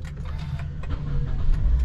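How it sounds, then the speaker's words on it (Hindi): A 2019 Toyota Corolla Altis Grande starts by push button: a few quiet clicks, then the engine catches and settles into a low, steady idle that grows slightly louder near the end. "Let's first start the car."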